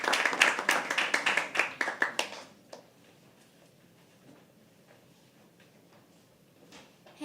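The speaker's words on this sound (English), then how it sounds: "Please clap, guys. Keep clapping for Ved Priya." Audience clapping at a poetry open mic, a dense burst of many hands for the first couple of seconds that quickly thins to a few scattered claps and then near quiet.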